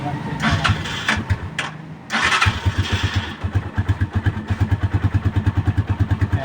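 A Rusi 175 motorcycle engine warming up, revving unevenly before settling into a steady, rhythmic idle thump, close and loud while people talk over it.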